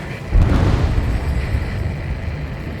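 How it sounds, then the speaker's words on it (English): An underwater explosion in the video game Ace Combat 7: Skies Unknown sets off a deep, muffled boom that swells suddenly, then lingers as a heavy, slowly fading rumble. "A huge explosion just went off underwater."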